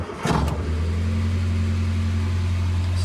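Morris Minor engine cranking briefly and catching, then settling into a loud, steady low idle hum close by.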